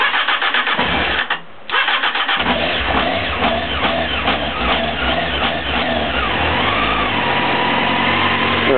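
A Honda CBF600 motorcycle engine cranks on the starter with the choke on, coughs briefly, then catches and keeps running with an uneven idle and small revs, close and loud throughout.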